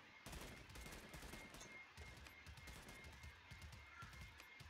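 Rapid gunfire crackles almost nonstop in a Realm Royale match, dense bursts of shots at moderate distance forming a steady fusillade with a few heavier blasts mixed in.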